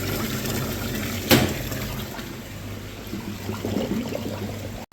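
Water rushes steadily through a freshly unblocked drain, a continuous hissing, gurgling flow that builds slightly toward the end, with one sharp knock early on.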